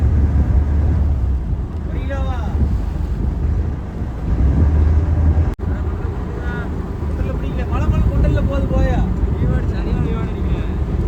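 A motorboat runs out at sea in cold weather on a squid-fishing trip. A steady, loud engine rumble is mixed with wind buffeting the microphone, and faint voices come through now and then.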